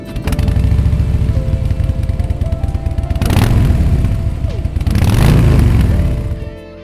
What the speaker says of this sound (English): Its pipes are an essential part of the experience, and genuinely, whatever your feelings are about loud bikes